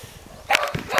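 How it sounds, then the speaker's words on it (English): Dog barking, two short sharp barks about half a second apart, close and fairly loud, with no talk. "that's a dog."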